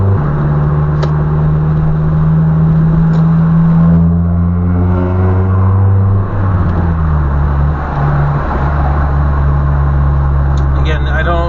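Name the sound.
manual car driving through town, shifting without the clutch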